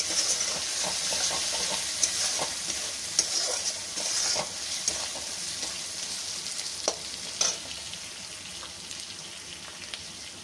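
Spice paste for chana masala stir-fried in oil, with a continuous moderate sizzle and scattered spatula scrapes and taps against the pan.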